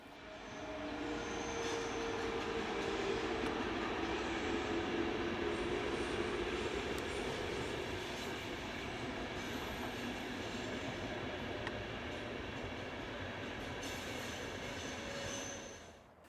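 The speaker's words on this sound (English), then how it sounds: "Seen heading down the grade is this Class 1016 on train EC164, the 945 from Graz to Zurich." An ÖBB Class 1016 electric locomotive hauling EuroCity EC164 from Graz to Zurich passes while heading down a grade, giving a steady rolling rumble with wheel noise and light squeal that holds for about fifteen seconds before dropping away.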